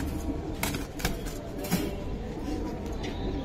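Silver military pigeons cooing close by in a loft, soft repeated low coos over a steady background hum, with no talking.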